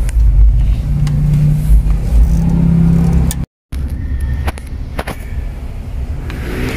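Hyundai H100 van engine, being worked on for an injector fault, loud and close with a low rumbling idle and a brief rev. A short dropout follows, then a rougher running rumble with clanks.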